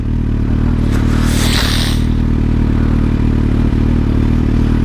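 A loud, close motorcycle engine runs steadily with a brief revving surge and metallic rattle early on, then settles back to a rough idle.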